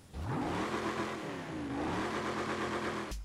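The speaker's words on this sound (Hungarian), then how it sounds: "megtúráztatom a motort." An all-wheel-drive car in Forza Horizon 5 revs its engine hard, a loud close synthetic roar that climbs, dips briefly and climbs again over about three seconds before cutting off abruptly.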